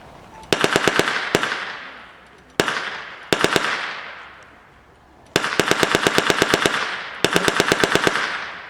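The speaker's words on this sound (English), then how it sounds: "The gunner fires in short controlled bursts to keep the gun cool and disrupt an enemy." A First World War Lewis machine gun at a Birmingham Pals living-history display fires loud, rapid controlled bursts outdoors, each volley a tight string of cracks followed by a fading echo, with several bursts in a row.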